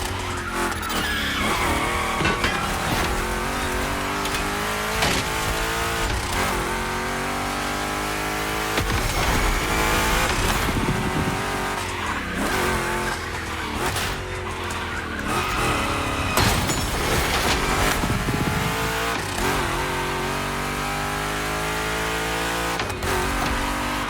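Two Chevy big-block cars racing in The Crew Motorfest, with loud roaring engines, repeated revving and sustained tire squeals and skids through tight turns over a continuous run.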